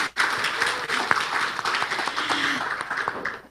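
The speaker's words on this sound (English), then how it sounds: "Please give a round of applause for our three speakers." Audience applause at an agribusiness and rural development conference, a steady patter of many hands clapping for three speakers, moderately near, with a faint voice briefly audible underneath.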